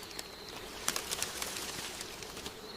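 Oxpecker calls drawing nearer to a tick-covered moose in the wild, a run of short, sharp chirps scattered over steady outdoor background noise, moderately close and growing clearer.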